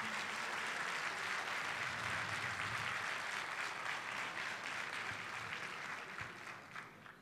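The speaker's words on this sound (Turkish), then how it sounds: "Tuğrul Mete Er abimize de bir alkış." Audience applause at an award ceremony, sustained and dense clapping from a large crowd that carries steadily throughout and tapers slightly toward the end.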